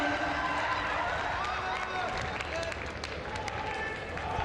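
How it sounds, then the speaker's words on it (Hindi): A large crowd at a tribal heritage day event in Dediapada, Gujarat claps to welcome the Prime Minister, a dense continuous wash of applause with crowd noise and an announcer talking over it. "तमाम तालियों से इस क्षण का आनंद लेते हैं।"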